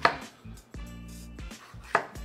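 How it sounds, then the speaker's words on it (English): A knife chops bell peppers and onions for shrimp skewers, giving a few crisp, close cuts against a board with pauses between them. "Go ahead and slice up some of these bell peppers and onions for our skewers"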